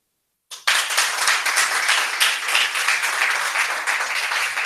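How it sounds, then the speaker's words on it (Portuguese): A church congregation breaks into sustained applause, a dense wash of many hands clapping that starts abruptly and continues steadily at close range. "Palmas para ele."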